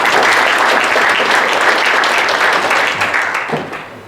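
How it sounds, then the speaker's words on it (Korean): A large audience at an army officers' security forum general assembly and inauguration ceremony applauds the new president before his inaugural speech; dense, steady applause that fades toward the end. "취임사를 하겠습니다. 큰 박수 부탁드립니다."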